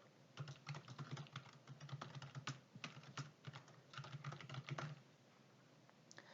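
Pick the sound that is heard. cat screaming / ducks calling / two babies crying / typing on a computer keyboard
typing on a computer keyboard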